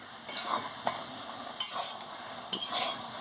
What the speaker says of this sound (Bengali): একটু ভালো করে নাড়িয়ে নিচ্ছি শাকটা